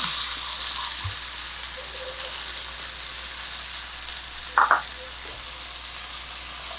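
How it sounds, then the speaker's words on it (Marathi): Sweetcorn and mushrooms sauté in a pan with a constant, even hiss of frying, and a brief pair of spatula clinks stands out near the end. "हे सगळं आपल्याला फक्त थोडंसं परतून घ्यायचं"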